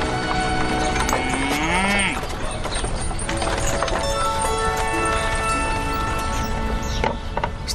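Donkey hooves clip-clop at a mill in a fairy-tale setting, a steady rhythmic clatter of close footsteps with a braying or whinnying call early on and voices underneath.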